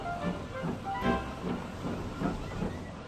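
A steam locomotive puffs in a steady rhythm, each chuff a soft hissing burst about every half second, heard faintly at a moderate distance with no voices.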